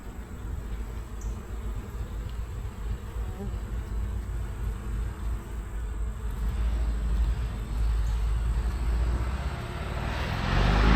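Honeybees buzz around open hive frames during an inspection, a continuous insect drone that grows louder toward the end, with faint talk in the background.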